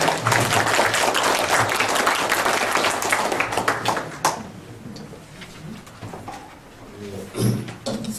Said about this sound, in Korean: 선생님의 발표를 아주 큰 박수로 그 맞이하도록 하겠습니다